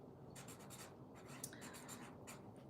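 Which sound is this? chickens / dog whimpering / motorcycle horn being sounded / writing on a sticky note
writing on a sticky note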